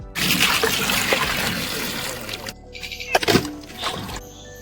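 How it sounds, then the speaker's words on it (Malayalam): Onions being washed under running water in a home kitchen while cooking egg curry: a steady splashing, gurgling tap stream with sloshing and handling noises, breaking off briefly and resuming with a few louder splashes. "നമ്മുടെ സബോള കഴുകാൻ പോകുന്നു"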